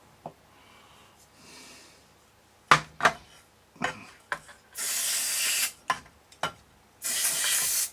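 Aerosol spray is aimed into a Dansette Automix record player, with scattered knocks and handling clicks broken up by two longer, steady hissing sprays, close and moderately loud.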